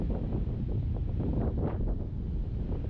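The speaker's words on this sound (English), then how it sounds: "despite it being super windy and it's starting to rain." Heavy coastal wind near Mendocino, California buffets the microphone in a constant low rumble and roar, with gusts swelling and fading and no other sounds.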